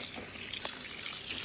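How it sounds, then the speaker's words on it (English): Hand-dyed yarn is rinsed in a basin of water at home, with faint, soft trickling and sloshing, one small splash standing out briefly in a quiet room. "I rinsed them through in the water a few times until the water ran clear"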